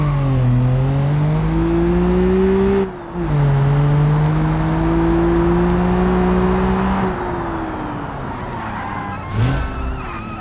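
A car accelerating in BeamNG, engine pitch climbing steadily through one long pull, a brief dip as it shifts gear, then revving on at a high, loud, near drone before easing off.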